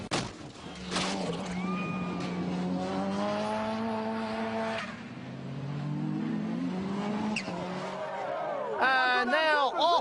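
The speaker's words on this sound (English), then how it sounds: "British Rallycross cars are twice as powerful and crash just as spectacularly" Metro 6R4 rallycross cars at a British Rallycross event, engines droning and rising in pitch through gear changes, with a sharp revving burst near the end, heard under steady commentary.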